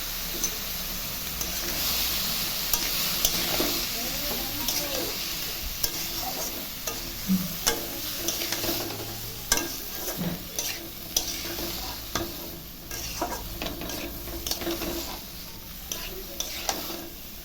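Ash gourd pieces frying in a pan with cumin, dried chili, salt and turmeric, a steady close sizzle broken by irregular scraping stirs and occasional utensil knocks, with no talking.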